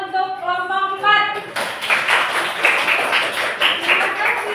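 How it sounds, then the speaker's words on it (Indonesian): A classroom bursts into applause for a presenting student group, a few seconds of dense, close clapping that follows a brief spoken line. "tepuk tangan untuk kelompok 4"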